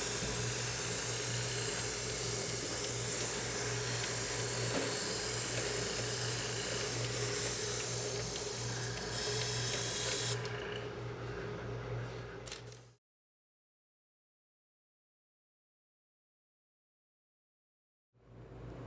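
A spray gun loaded with thick colored cocoa butter, heavier than a water-based product, hisses steadily for about ten seconds, quieting briefly before it cuts off into silence, then starts again near the end.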